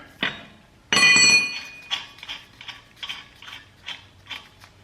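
Lug nuts on a 2007 Toyota Sienna wheel are tightened with a ratchet during a brake pad change, giving a loud burst of clicking followed by a steady series of short, close ratcheting clicks.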